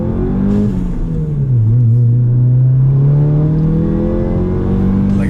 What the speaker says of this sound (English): So I really like the blow-off noises that it makes as well.